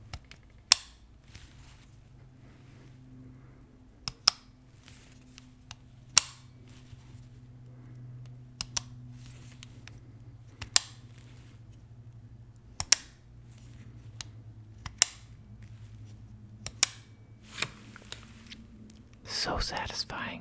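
An AR-15's 90-degree safety selector is switched back and forth, giving about a dozen sharp, isolated clicks close to the mic at irregular intervals over a faint low hum, with a brief rustle at the end.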